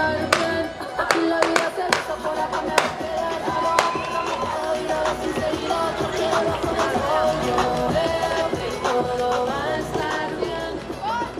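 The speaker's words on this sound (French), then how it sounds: "On les applaudit quelque part, s'il vous plaît." Audience applause rises in a crowd, many hands clapping steadily and fairly close while a singer's melodic voice carries over the top.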